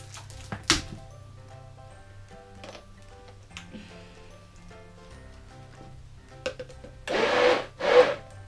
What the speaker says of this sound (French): Je vais mettre dans le mixeur pour